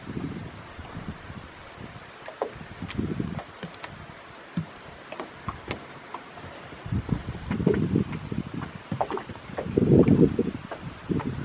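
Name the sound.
wind blowing over a lake in Sitka, Alaska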